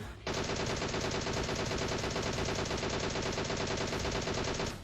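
In a video game, a DP-28 light machine gun fires one long, sustained burst of rapid, evenly spaced shots, loud and close, lasting nearly five seconds with no talking.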